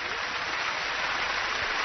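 Studio audience on a televised singing show applauding a singer, a dense, even burst of clapping heard alone at moderate distance.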